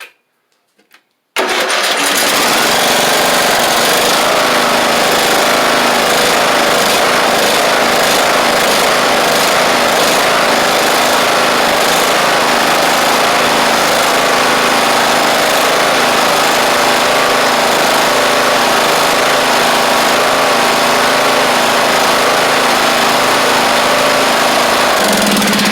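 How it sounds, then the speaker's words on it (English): A small lawn mower engine starts after a brief pause, then runs loud and steady at a constant buzzing pitch for a long stretch. "We got a runner, boys. She sounds pretty good, you know. It's just a lawnmower."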